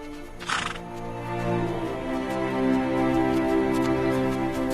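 Przewalski's horses in Xinjiang give a long, loud whinny after a brief snort, with the neigh rising and holding over faint background, and no voices present.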